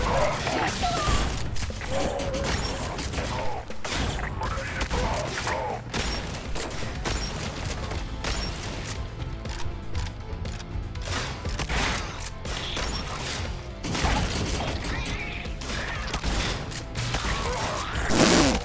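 Shotgun blasts and reload clicks from the video game SENTRY pop at irregular intervals over busy game noise and music, fairly close and loud, with a quieter stretch in the middle.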